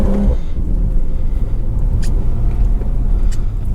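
A BMW 340i drives downtown at 3am, its engine rumbling low and loud from inside the car, steady throughout with faint higher hiss from the road.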